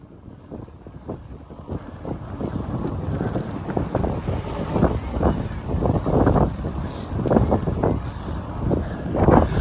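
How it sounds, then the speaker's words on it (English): Strong gusty wind outdoors, blowing at about 20 km/h with gusts of 40 to 50 under drizzly, overcast skies, roars steadily and loud across the whole stretch, swelling in repeated buffeting surges against the microphone. "We're having winds at 20 kilometers an hour, 40 to 50 in the gust."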